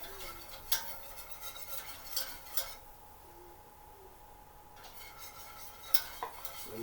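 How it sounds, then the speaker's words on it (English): A whisk stirs flour into a roux in a pot, giving soft scraping and clinking against metal. A few sharper taps stand out, and a brief quiet stretch falls midway, with no talking. "you want to whisk it in to make a roux"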